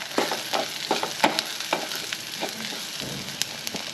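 Fried onion with turmeric is stirred in a pan, with close, repeated scraping strokes over a steady sizzle.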